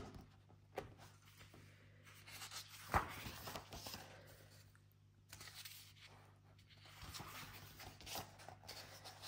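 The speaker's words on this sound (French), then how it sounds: "On va maintenant le feuilleter ensemble." Pages of a book are leafed through, giving soft, faint paper rustles and flicks at an irregular pace in a quiet room.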